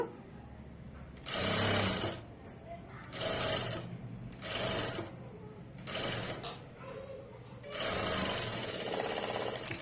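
A sewing machine stitching cloth in bursts, several runs of fast whirring mechanical stitching separated by short quieter pauses, close and clear.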